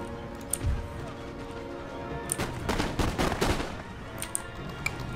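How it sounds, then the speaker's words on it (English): Artillery and musket volleys in the Empire: Total War strategy game, a battle against Swiss grenadiers and German light infantry; scattered sharp bangs build into a dense cluster of overlapping shots midway, then thin out to isolated reports. "Concerted artillery fire."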